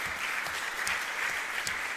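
A workshop audience in a closing session claps steadily for the organizing committee, a dense round of applause lasting throughout.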